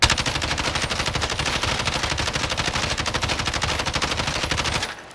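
Sustained fully automatic fire from a Kilo rifle in Call of Duty Modern Warfare, a fast, even stream of shots against a wall that cuts off abruptly near the end.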